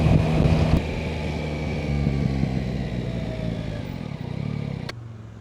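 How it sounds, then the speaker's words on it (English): A 2025 Yamaha Tracer 9 GT motorcycle on a test ride, its engine humming steadily with wind rush and slight shifts in pitch, a brief clatter near the start and end. "the Yamaha Tracer 9 GT that I'm taking out on a little test ride from Woodford Motorcycles"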